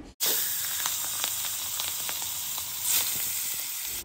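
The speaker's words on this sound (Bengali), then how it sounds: "প্রথমেই তেলেতে চোঁ করে মাথাগুলো ভেজে নেব" Fish heads sizzle steadily in hot oil in a frying pan, a loud, continuous close-up crackle with scattered pops that runs for the whole stretch without any talk.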